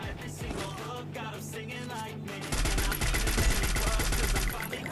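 Rapid video-game gunfire bursts in a ranked duo match, loud automatic shots packed into dense repeated volleys during the second half, with steady game ambience underneath and no talking.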